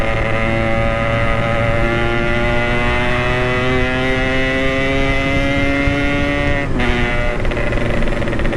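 A Yamaha RX King motorcycle with an aftermarket exhaust revs and pulls hard, its engine tone climbing steadily before a sharp drop near the end, loud and close with no talk.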